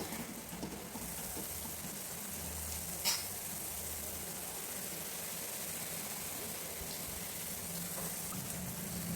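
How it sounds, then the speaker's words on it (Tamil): A steady bubbling sizzle of sugar syrup boiling in a pan for ras malai, close and continuous, with a brief clink partway through and no voices. "இப்போது பாகு நல்லா கொதிச்சிடுச்சு"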